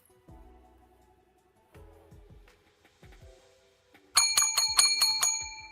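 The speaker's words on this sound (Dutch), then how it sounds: "Bel is gegaan." A bicycle-style bell rings in a quick bright burst of several clear metallic dings near the end, after a few soft thumping notes, with no talk over it.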